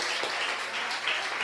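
A crowd gives a round of applause at a World Creativity Day event in Santos, with dense, steady clapping throughout that sounds somewhat distant and moderately soft.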